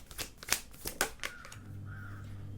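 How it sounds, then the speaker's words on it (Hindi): Tarot cards drawn from a deck give a few quick, crisp paper flicks and snaps close by, then settle into a quiet hum. "और 2 कार्ड्स निकालती हूँ।"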